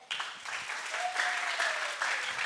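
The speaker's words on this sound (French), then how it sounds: "Alors, veuillez applaudir pour maman." Applause breaks out from an audience at a gathering, moderately loud clapping that starts abruptly and continues steadily, with a thin tonal whine running through part of it.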